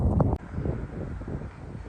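Gusty wind buffets the microphone in a pumpkin field on a farm, a rough low rumble that swells and dips steadily throughout with no voices.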